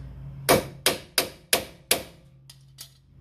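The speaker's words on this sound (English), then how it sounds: "we're gonna have to bonk it out. Use the hammer, the best hammer that you have." A hammer knocks out a tie rod end on a Mazda 3 with six sharp metallic blows at an uneven pace. The first five ring out loud and close; the final ones come softer.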